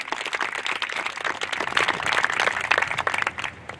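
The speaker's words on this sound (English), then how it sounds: "So please, everybody give that football team a round of applause." An audience at a school event applauds the school football team, a dense, sustained burst of many hands clapping that swells slightly and then tapers, with no talking over it.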